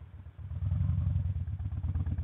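A 2004 Harley-Davidson Softail Deuce FXSTDI idling during a hill stop, with a low, throbbing, lumpy engine rumble that is close and steady for a couple of seconds.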